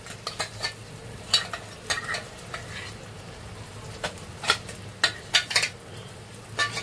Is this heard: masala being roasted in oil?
yes